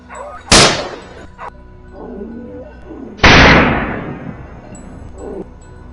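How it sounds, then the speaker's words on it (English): Hunting dogs barking at a wild boar in rocky, brushy hill country; two loud, sharp bursts stand out close by, with fainter barks and rustling between them. "the dogs erupt, barking furiously at a nearby thicket"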